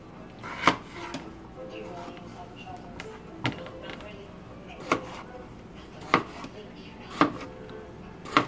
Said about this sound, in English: Once you get all your potatoes chopped up